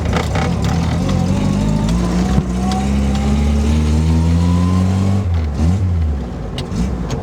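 A Simca 5 engine roars loudly and steadily while driving, its pitch rising and falling through gear changes with double-clutching.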